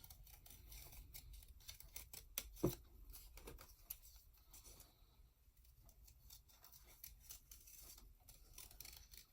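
Scissors cutting paper around a drawing of a bunny, a quiet, steady run of soft snipping and rustling close by, irregular in rhythm, with a couple of slightly louder cuts early on and no talking.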